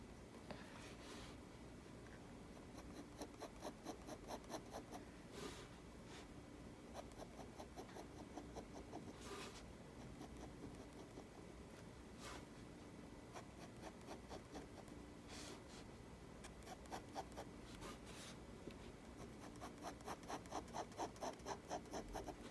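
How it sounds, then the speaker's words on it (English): A very thin pen scratches lightly across paper while crosshatching, making faint, close, rapid rhythmic strokes that continue steadily with small bursts throughout. "You hear the scratching on the paper"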